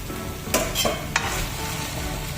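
Chicken and diced potato chunks stirred in a frying pan for Goan chicken vindaloo, with a steady sizzle underneath and a few sharp spoon scrapes standing out.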